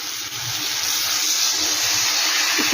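Water poured into a pot for a hilsa fish curry, making a steady close hiss and rush without a break.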